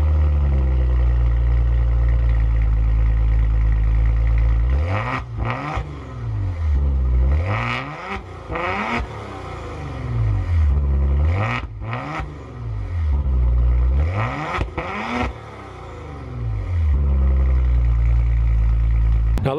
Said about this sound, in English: Your start stop button, which we'll press now. Bring the Maserati to life.